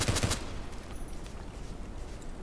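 Pistol fired in the shooter video game Contract Wars, a quick close burst of about three sharp shots at the start, followed by a low steady game ambience with no talking.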